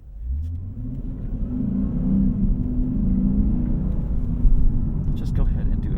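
A 2024 Lexus IS500 F Sport V8 revs up from low with a rising note, then holds a deep, loud, steady rumble close by.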